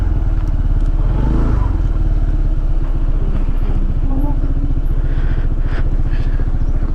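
Honda PCX 160 scooter-style motorcycle idling loud and close at a camping site in Tanay, a steady low engine hum running throughout while people talk nearby.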